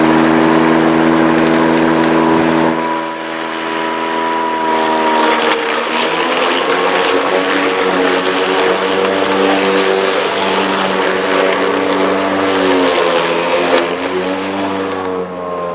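A Toro 60V Flex-Force cordless 21-inch lawn mower's motor spins up and runs steadily with a loud, continuous whirring hum that shifts in pitch as it settles, close and alone.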